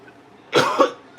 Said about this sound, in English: Sorry about all that coughing.